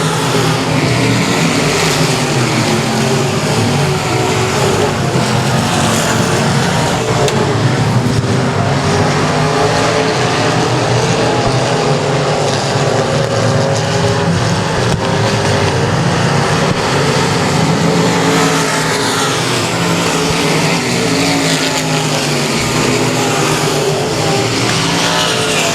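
A race car engine roars at full throttle around Texarkana 67 Speedway, a loud, continuous and dense drone of several cars running close together that rises and falls slightly as they work the outside line.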